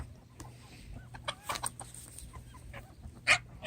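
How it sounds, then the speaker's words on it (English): Scattered soft clucks from chickens with a brief sharper squawk near the end, set against a low steady background hum. "There's the chickens."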